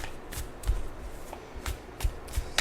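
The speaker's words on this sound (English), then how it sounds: "We're going to shuffle over the table so I don't have to bend down again." Tarot cards shuffled by hand over a table, heard up close as several quick, crisp riffling bursts spaced apart, with no talking.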